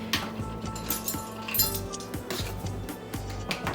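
A spoon clinks repeatedly against a bowl while sugar is mixed for lemon raspberry scones, giving soft, close, irregular taps and scrapes with no talking.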